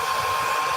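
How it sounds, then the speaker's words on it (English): A hair dryer runs steadily at close range while drying a craft project during a butterfly journal crafting session, a continuous loud whirring blow with no break. "Sorry, I got to put the hair dryer on for a bit."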